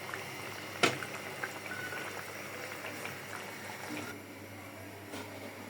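A pot of fish curry with tomato simmers on the stove, giving a faint, steady bubbling hiss with a few soft clinks and pops, close and quiet, with no speech.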